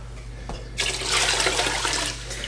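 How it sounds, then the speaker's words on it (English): Water pours into a pot of dry lentils for a lentil bowl, a steady splashing gush that starts abruptly after a short pause, stays loud and close for over a second, then tapers slightly. "and then 8 cups of water."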